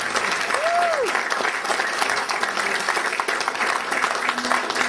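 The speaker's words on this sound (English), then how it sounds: "So let's have a round of applause for the man, Lonnie Lee." An audience claps steadily in a dense, continuous wash of applause, with a faint brief whistle-like tone early on.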